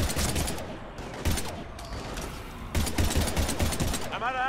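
Rapid bursts of automatic gunfire in the shooter Mass Effect 3 during a firefight with husks, loud and close, layered with dense combat effects and voices.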